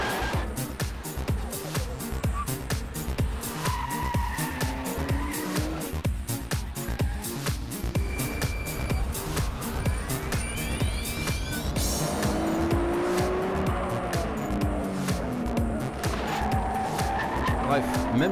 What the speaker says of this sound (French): Quant au bruit délivré par l'échappement titane